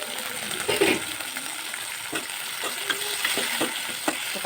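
Tomatoes sautéing in a pan after onions and green chillies for a brinjal pachadi, a steady close sizzle broken by several sharp scraping stirs of a spoon against the pan, with no voices.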